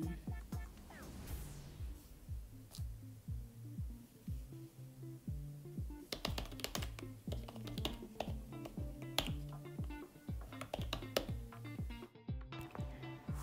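Thai text being typed on a computer keyboard while making a thumbnail in Keynote, a steady run of close, light key clicks with brief pauses, over faint background hum.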